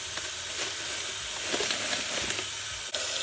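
Hot water poured from a kettle over dry corn husks soaking for tamales, a steady rushing hiss with faint crackles and one brief break near the end, no voices.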